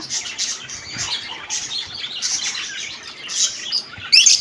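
Pet cockatiels, including a lutino, chirp and tweet in their cages at close range, with busy, overlapping high calls and a louder burst near the end.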